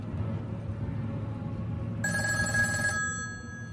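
A telephone bell rings once in a bright burst lasting about a second, over a steady low background hum, with no talk.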